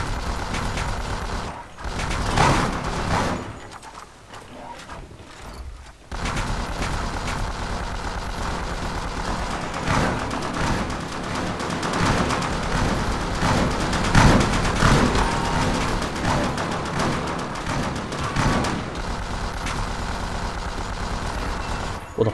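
Rapid gunfire bursts in a zombie shooter video game, dense and continuous with mechanical clatter, a short lull around the early seconds before steady firing resumes at close range.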